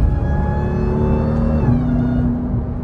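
Supercharger whine from a Jeep Trackhawk driving with its exhaust off, a steady rising tone riding over loud engine roar and road noise throughout.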